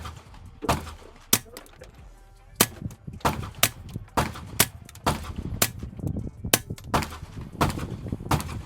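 Suppressed .22 rifle shots through a Warrior Systems Legionary suppressor: a dozen or so sharp, dry snapping reports fired at an irregular steady pace, each cracking loud and close with a faint clank of the action between them.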